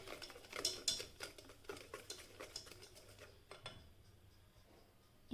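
Banana bread batter with sugar beaten by hand in a bowl, a quick steady patter of utensil strokes that thins out toward the end, close but soft.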